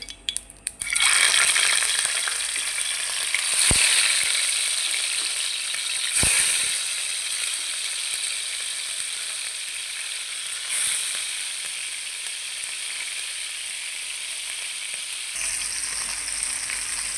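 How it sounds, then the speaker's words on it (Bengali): Hilsa fish pieces fry in hot oil with a steady, loud sizzle throughout, broken by a few sharp crackling spits and pops. "তো অলরেডি আমার মাছ ভাজা হয়ে গেছে।"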